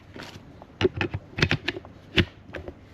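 A 5 amp hour lithium-ion battery clicks into an 18 volt brushless impact driver, a cluster of sharp, close plastic clicks and rattles over a few seconds with no talk.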